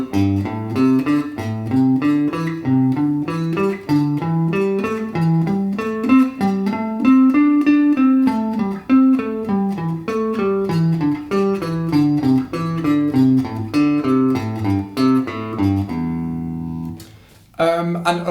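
Guitar runs through pentatonic scale positions in four-note patterns, climbing and then descending in a steady, continuous stream of clear picked notes with no talking, ending on a sustained note.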